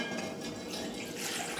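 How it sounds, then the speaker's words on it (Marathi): A jug of water pours into a cooking pot on a gas stove, a steady close splashing gush that runs unbroken for the short moment, with no talking. "त्याच्यात मी हा 1 तांब्या पाणी ओतत आहे"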